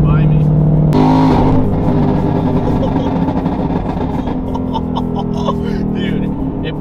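A car accelerates hard with its advanced traction control switched off, the engine note climbing loudly and close with a sharp gear change near the start, then a steady rising roar.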